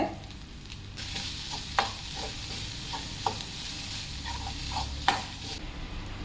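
Finely chopped mushrooms fry in a pan with salt and turmeric for mushroom Pallipalayam, giving a steady sizzle with occasional sharp clicks of a spoon stirring against the pan. No one speaks.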